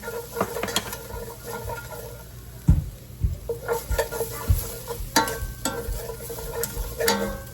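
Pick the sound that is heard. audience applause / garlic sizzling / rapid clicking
garlic sizzling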